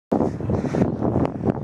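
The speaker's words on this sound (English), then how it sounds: "completely windy. But it's sunny." Gusty wind on a sunny day buffets the microphone with loud, rumbling low-end blasts and rustling, continuous for the short stretch.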